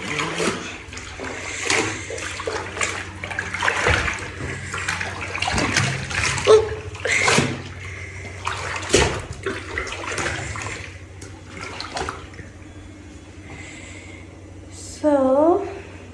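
Water runs and splashes steadily during hand-washing of laundry indoors, with intermittent sloshing and handling noises throughout, close and fairly loud, and a brief higher squeaky sound near the end.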